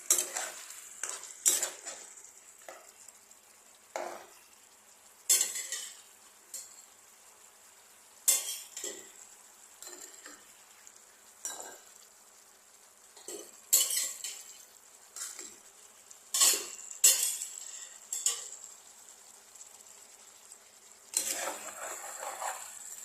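Fish pieces and potatoes cooking in a pan, with repeated sharp scrapes and taps of a utensil against the pan over a low sizzle, close and recurring every couple of seconds.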